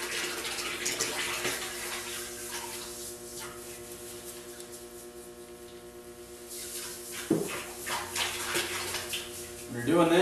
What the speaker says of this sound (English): I like to stir it up just a little bit. Just get everything mixing in there.